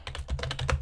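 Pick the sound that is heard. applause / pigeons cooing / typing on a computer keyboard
typing on a computer keyboard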